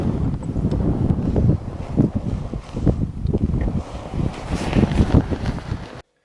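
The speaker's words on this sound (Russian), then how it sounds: "ветер сильный опять" Strong wind in a village buffets the microphone in loud, uneven gusts, a rough rumbling roar that rises and falls throughout before cutting off abruptly.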